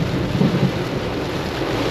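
Heavy rain pours steadily during a car drive while a low thunder rumble swells briefly near the start, then settles back into the constant downpour.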